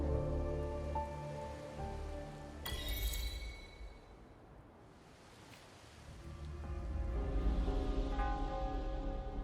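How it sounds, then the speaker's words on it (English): Rain falls in the video game Wuthering Waves, a steady wash of droplets under game music and tones, thinning briefly in the middle then building again toward the end. "This rain, it's finally happening."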